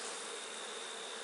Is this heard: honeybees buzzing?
yes